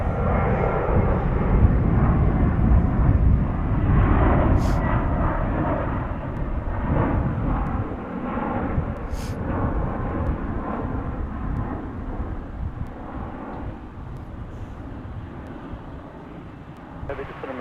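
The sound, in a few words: airliner jet engines at DFW Airport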